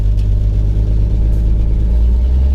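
A 1966 Valiant cruising along, its engine giving a loud, steady low rumble with a faint pulsing throb and no voices over it.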